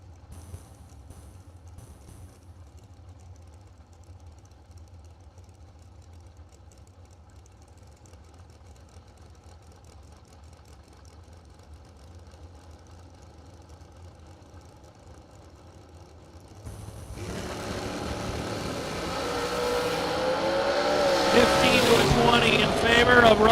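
Drag racing cars idle quietly at the starting line before the TNT dragster launches, a sudden loud engine roar that keeps building and stays close.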